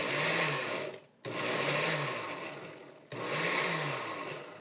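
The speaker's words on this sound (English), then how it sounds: "I'll pop this on the blender" Blender pureeing apricots with a little sugar, whirring in three loud bursts with brief pauses between them as the motor cuts off and restarts.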